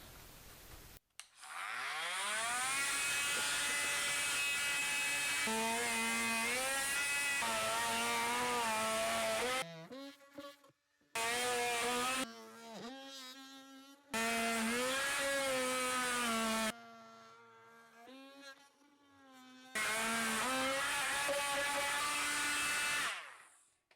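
A power saw cuts through wood framing and masonite siding while a microwave vent hole is made to the outside, whining loudly in several long bursts with rising and falling pitch, separated by short pauses.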